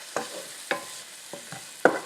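Food being stirred and cooked in a pan while making scalloped potatoes: four distinct scraping stirs spaced about half a second apart over a soft, steady sizzle, close and alone without talk.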